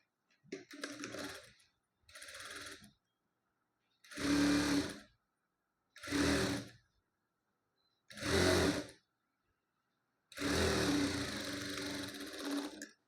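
A sewing machine stitches a puff sleeve onto a blouse in six short bursts of rapid, whirring clatter separated by silent pauses, close and fairly quiet, the last run longest.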